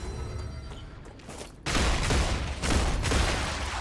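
Pistol gunfire in the video game Star Rupture, a sudden dense burst of loud, rapid shots starting partway in after a quieter lead-in, continuing close and harsh to the end.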